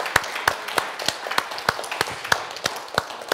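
An audience welcoming a guest, a Holocaust survivor, claps in a steady, even rhythm of sharp, close claps at about three per second, without a crowd roar behind them.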